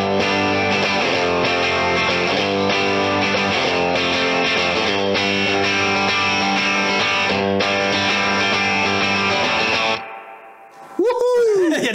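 Electric guitar played through an amp stack at zero gain with a boost drive in front rings out in loud, sustained overdriven chords for about ten seconds, then cuts off before a brief voice.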